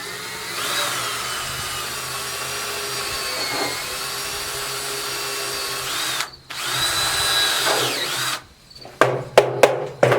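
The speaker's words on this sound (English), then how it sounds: "Start the drill bit in straight, and then just drill it at an angle." A power drill whines steadily as it bores into wood at an angle while building a wood shed, close and loud, then cuts out and restarts in several short bursts.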